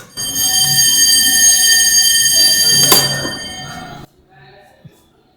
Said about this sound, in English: If you open it up, there's an alarm going off on the inside